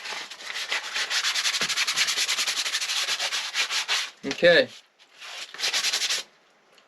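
Sanding a cedar cutting board by hand, with rapid rhythmic rubbing strokes close up, a brief pause with a short spoken word and a scrape, then a final burst of strokes.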